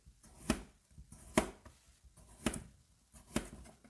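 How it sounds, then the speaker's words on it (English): A knife chops down through potatoes, cutting slices about 5 mm thick in four sharp strokes, about one per second, each a crisp near thud on a board. "we're going to cut them a few mils thick"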